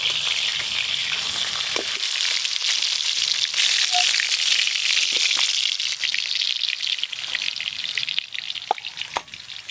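Fish frying in a pan, a loud, dense, continuous hiss and crackle of hot oil with occasional sharper pops and faint clinks throughout.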